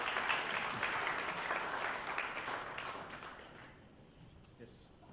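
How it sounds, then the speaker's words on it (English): Audience applause greets the chairman of a conference session on precious metals, a steady wash of clapping that fades gradually toward the end. "Mr. John Levin, big round of applause to the chairman of the session."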